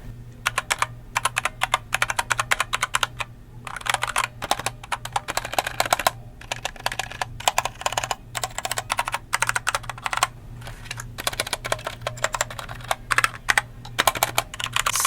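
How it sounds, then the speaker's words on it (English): Mechanical keyboard with Gateron switches and pre-lubed stabilizers being typed on, a close, steady stream of crisp clacks with brief pauses, alone without talk. "so it does come with the Gateron mechanical switches, and the stabilizers come pre-looped"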